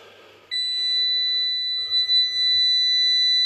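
A Parkside wall detector gives out a steady, piercing electronic tone that starts abruptly and keeps sounding without a break, with faint handling noise underneath.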